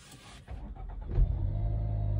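A car engine cranks briefly and catches after a press of the push-button start-stop, then settles into a steady, close idle with no talking.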